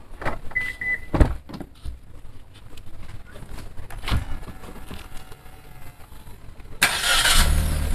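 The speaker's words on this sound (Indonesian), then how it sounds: "Oke, sekarang mesin udah nyala." A Suzuki All New Ertiga engine starting with a brief crank and catch, followed by a steady idle under bird cooing nearby, then a louder burst of wind or rushing noise near the end.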